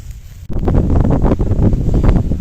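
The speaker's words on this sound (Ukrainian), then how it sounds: "Для розуміння покажу, який вітер на вулиці." Strong wind buffeting outdoors at a fishing lake, a loud continuous rushing roar that gusts unevenly after a brief quieter moment.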